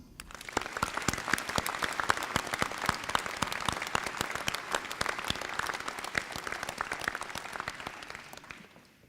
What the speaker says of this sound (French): je pense que cela mérite quelques applaudissements